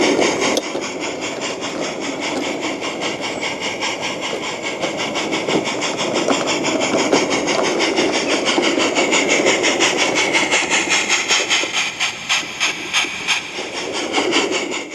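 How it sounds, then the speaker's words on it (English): A light railway locomotive runs to a goods siding with a steady mechanical rumble and hiss, a rhythmic rapid chuffing or wheel beat building toward the middle, then brief pulsing near the end, with no talking. "Abandoning its train, the Loco proceeds to the goods siding, where it removes the wagons from alongside the loading dock."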